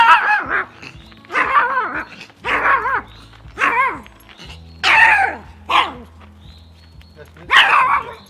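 A chihuahua barks aggressively and out of control in repeated sharp, high yapping bursts about a second apart. The barks are loud and close, with a steady low hum running underneath.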